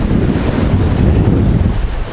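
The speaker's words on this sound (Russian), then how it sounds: "Слушайте, очень сильный ветер." Violent storm wind buffets the microphone on the Black Sea coast at Adler, Sochi in 2021, a loud continuous roar blending with heavy sea waves and surf, with no voices.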